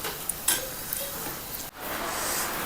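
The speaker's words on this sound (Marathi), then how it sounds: "आणि काजू पण परतून घ्यायचे आपल्याला" Cashews being sautéed in a pan for paneer bhaji, a soft sizzle with light scraping and stirring clicks, close and fairly quiet.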